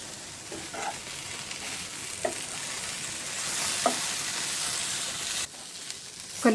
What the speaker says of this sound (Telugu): మధ్య మధ్యలో కలుపుకుంటూ మగ్గించుకోవాలి.